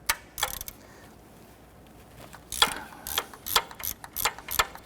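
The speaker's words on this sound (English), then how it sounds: "I'm going to loosen that bolt." A ratchet clicks on a 14mm alternator bolt of a 1992-1996 Toyota Camry 2.2L four-cylinder, with a couple of isolated clicks and then a quick burst of close, rhythmic ratcheting strokes.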